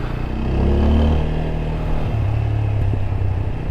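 A new motorcycle's engine rumbles close by with a low, steady idle, swelling briefly as the revs rise and then settling back down.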